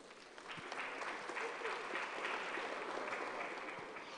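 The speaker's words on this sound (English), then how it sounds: "Ladies and gentlemen, please help me with a round of applause to welcome them back here to the stage" An audience at the 7th EMY Africa Awards ceremony gives a continuous round of applause, dense and even, heard at a fairly low, distant level without speech.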